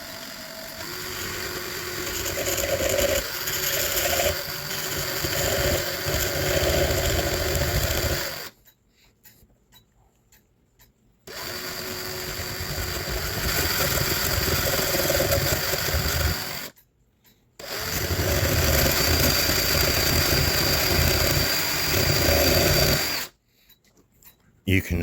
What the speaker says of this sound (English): it's kind of hard to do because you're using a drill